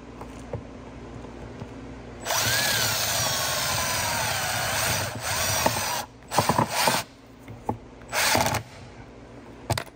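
A cordless power tool drives screws into a real molded carbon fiber rear diffuser on a 2021+ Tesla Model S, with one long whirring run followed by several shorter bursts and pauses.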